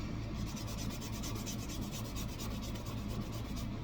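Steady, close rasping of sandpaper rubbing back and forth over a hard, coated surface of a painted object in quick repeated strokes, with no talking.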